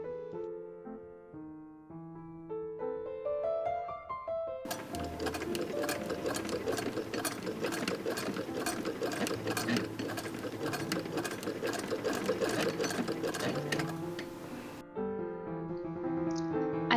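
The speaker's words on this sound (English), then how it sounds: "Time for some machine sewing." A sewing machine stitches a chemise made from curtain fabric, a dense rapid mechanical whir running steadily for about ten seconds with light music before and after, no talk.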